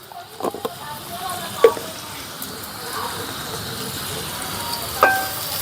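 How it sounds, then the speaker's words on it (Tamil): Onions sautéing in a pan with salt and curry leaves give a steady, soft sizzle and hiss, broken by a few clatters and stirring knocks. "நம்ம வெங்காயம் வதங்கிறதுக்கு உப்பு சேர்த்துக்கலாம் கருவேப்பிலை போட்டுக்கலாம்"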